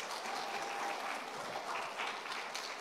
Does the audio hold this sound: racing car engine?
no